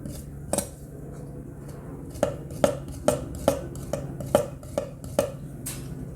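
Dragon fruit skin is scraped with a utensil against a hard surface for a soap exfoliant, giving a series of sharp scraping clicks and knocks at an uneven rhythm over a quiet background.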